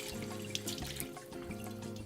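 A kitchen tap runs steadily, rinsing syrupy sugar water off food being prepped for a meal, with a constant splashing stream and small drips nearby.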